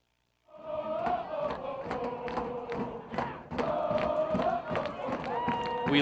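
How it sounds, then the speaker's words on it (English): A college men's soccer crowd at Indiana Wesleyan versus Taylor, with Taylor students cheering and shouting in a dense, loud, steady roar that swells in bursts over about six seconds. "We left with cheering, we come back with cheering."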